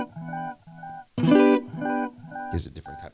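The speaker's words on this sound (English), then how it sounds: "Gives a different type of flange." Guitar run through the flanger mode of a Keeley Eccos delay pedal, a few swept, wobbling note groups with shifting metallic harmonics, loud and close with no talking.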